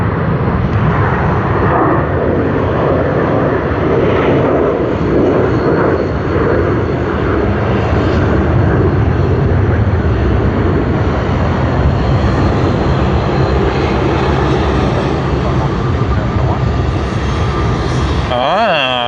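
A QantasLink airliner roars steadily at Sydney Airport, a loud, sustained engine rumble at moderate distance, with people talking over it throughout.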